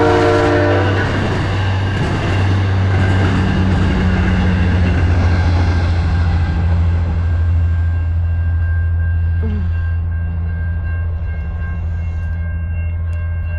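South Coast Rail train passing the Berkley crossing at night, with a loud sustained horn and a heavy rumbling roar that slowly fades as the cars go by, close and alone without speech.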